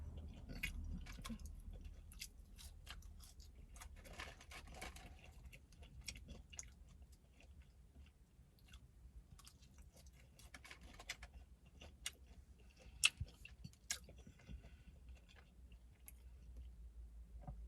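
Quiet, close chewing of McDonald's fries, with soft irregular crunches and mouth clicks over a low background hum, a few sharper bites standing out, and no talking.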